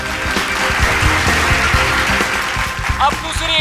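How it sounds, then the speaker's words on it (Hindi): Applause from a studio audience during a magic act on a TV crime drama, with a tied rope knot on stage; steady clapping sits under music and talk, with a brief rising tone near the end. "ये हो गई पहली गांठ। तालियां दोस्तों।"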